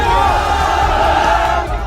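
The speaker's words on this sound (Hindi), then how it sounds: "टोंक की सड़क पर ऐसे ही नारेबाजी करते हुए ये भीड़ निकली" A large crowd on a street in Tonk chants and shouts slogans in a loud, continuous roar of voices with no pause.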